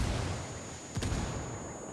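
Fragmentation grenade blast in a video game heard as one short, muffled thump partway through, fairly faint and buried under steady engine rumble from a Jeep climbing a hill.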